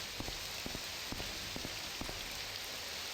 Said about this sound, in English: Oh, it's still raining.